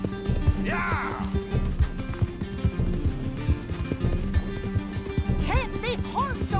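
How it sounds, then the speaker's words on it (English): Horse galloping in Red Dead Redemption, with steady, close clip-clop hoofbeats throughout and a couple of whinnies, mixed with game music and ambience. "Can't this horse go any faster?"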